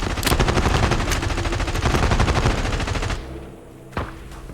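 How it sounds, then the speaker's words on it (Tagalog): Automatic gunfire in a shooter video game rattles loud and continuous for about three seconds, then stops, with one more isolated shot shortly after. "Oh, may bumabaril na iba."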